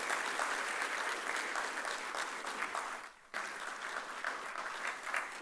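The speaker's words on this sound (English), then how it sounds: "Big round of applause, friends." Steady applause from an audience at a chartered accountants' tax event as a former chairman is called to the stage, dense and continuous with a brief dip before resuming.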